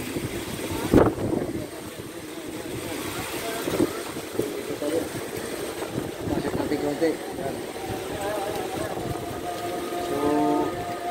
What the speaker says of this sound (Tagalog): Napakalakas sa ulan at saka sa hangin, oh.